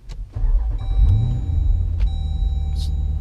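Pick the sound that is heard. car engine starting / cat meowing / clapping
car engine starting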